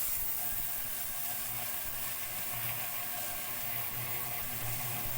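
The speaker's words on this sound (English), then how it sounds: "we're going to hit it with about a minute's worth of ultrasonic just to loosen off the crud" An ultrasonic cleaner runs with dirty Mikuni carburetor parts sitting in its fluid, giving a steady, loud buzzing hum with a fizzing, crackling texture throughout and no talking.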